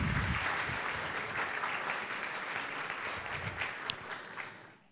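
Audience applause fills a hall at a regional final of a science talk competition in Trieste, a dense, steady wash of many hands clapping that holds for several seconds before tapering away at the end.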